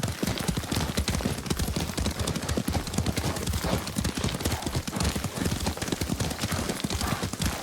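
Horse hooves gallop in the video game Ghost of Tsushima, a dense, rapid clip-clop beating loud and close throughout, with voices talking over the ride.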